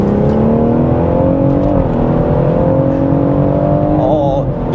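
A BMW M140i Shadow Edition hot hatch with a 460 bhp engine in Sports Plus mode revs and accelerates hard. A loud, continuous engine note climbs steadily, dips briefly at a gear change, then rises again, heard from inside the car.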